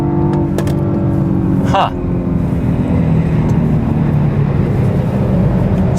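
A 2014 BMW 428i xDrive coupe in sport mode accelerates hard, its engine droning loudly and steadily from inside the cabin with a brief shift dip, while a voice briefly speaks.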